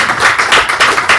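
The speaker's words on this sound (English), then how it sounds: "Clap, go on." A small audience claps on request after a talk, a brief loud patch of close, quick handclaps lasting just over a second.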